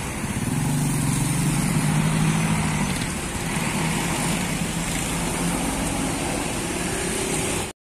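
A Damri bus from Bandung, serving as a tour coach, drives by on a busy road with a steady engine rumble and low tonal hum that eases slightly midway, continuous roadway noise until it cuts off abruptly.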